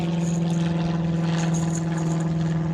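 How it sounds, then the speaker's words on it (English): A plane drones steadily overhead while fishing outdoors near an airport, a continuous low engine hum holding a constant level throughout with no speech. "And there's another dang plane."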